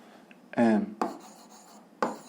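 Pen or chalk writing physics formulas by hand, giving a few short scratchy strokes in quick separate bursts against a quiet room.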